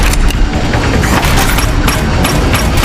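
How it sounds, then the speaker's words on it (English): Big explosive blast from a Transformers movie, a loud, dense roar of booms and crashing debris that fills the whole stretch with repeated bursts and rumbling. "One big blast coming up!"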